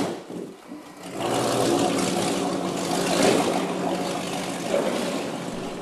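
Tour boat engine running steadily on Lake George, a continuous broadband drone with water noise, loud and close throughout with no talking.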